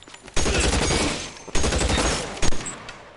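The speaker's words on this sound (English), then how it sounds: "Who the fuck's shooting him?" Loud, sustained volleys of gunfire in the crime game L.A. Noire, three heavy bursts of rapid shots at close range, nearly free of speech.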